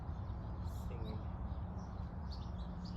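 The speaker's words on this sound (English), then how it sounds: "hear the birds" Scattered bird chirps sound faintly in a plum and apricot orchard over a constant low outdoor rumble, with a few clearer calls near the end.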